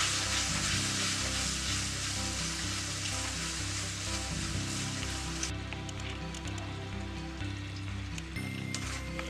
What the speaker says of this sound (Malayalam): ഒപ്പം തന്നെ സോയാ സോസും നന്നായിട്ടൊന്ന് മിക്സ് ചെയ്ത് കൊടുക്കാം